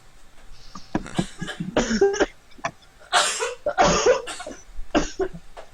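Repeated coughing, several harsh close-up coughs in irregular bursts with short pauses between them.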